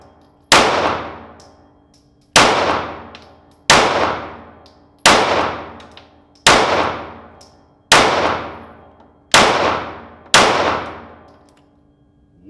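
Rost Martin RM1C pistol firing at a range, eight sharp loud shots with ringing decays, spaced roughly every one to two seconds, close and without talk.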